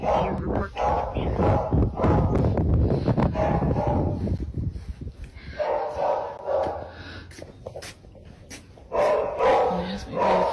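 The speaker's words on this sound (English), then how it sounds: "You can literally hear her barking." A dog barks in repeated loud, close bursts against a dense, noisy background that may include voices, with quieter gaps between the barking spells.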